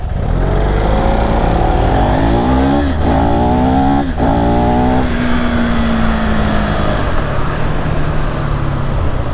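The single-cylinder 400cc engine of a KTM 390 SMC R motorcycle revs up through the gears with a dry mechanical note, loud and close, rising in pitch with each shift before settling into a steady drone over wind noise.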